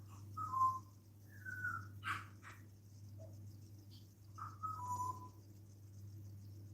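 A pet parrot mimics a dog with several short, squeaky whines and yelps spread across a few seconds, over a steady low hum in a quiet room.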